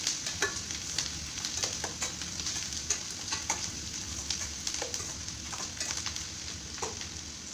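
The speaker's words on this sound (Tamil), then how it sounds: "இப்போ பச்சை மிளகாய் கருவேப்பிலை எல்லாத்தையும் நல்லா வதக்கி விடுவோம்." Green chillies and curry leaves sauté in a pan for a tomato pachadi, giving a continuous soft sizzle broken by scraping stirs and light clinks, fairly quiet and close with no talking.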